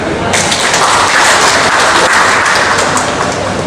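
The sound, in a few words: audience applause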